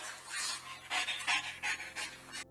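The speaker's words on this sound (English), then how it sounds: "the dog is panting a lot" A police dog pants heavily on body-camera audio, a steady run of quick, breathy huffs repeating close to the microphone for a few seconds before cutting off.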